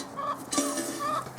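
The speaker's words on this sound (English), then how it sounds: "How are the chickens, Grace?" Backyard chickens clucking close by, a few short murmured clucks and one sharper squawk in the middle, with no talk over them.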